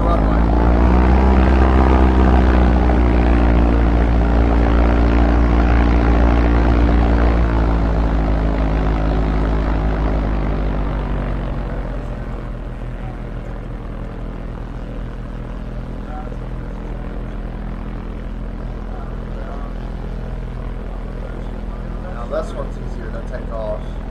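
A small propeller airplane builds to a loud engine drone on the runway, then its roar fades and thins as it moves off and climbs away, leaving a quieter hum.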